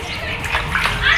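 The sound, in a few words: water splashing while washing fish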